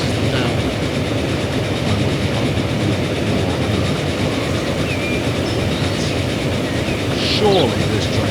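A train in the video game Transport Fever rolls along its rails, a steady, close, continuous rumble with faint rhythmic clatter, a brief squeal near the end.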